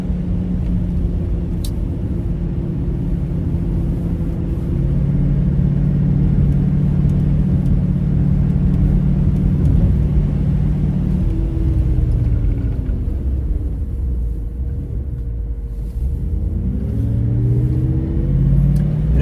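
A 1971 Mercedes 280SE 3.5 Cabriolet driving on the road, its engine a smooth, low, steady drone with gear changes and rising revs, heard close up alongside road rumble for the whole stretch.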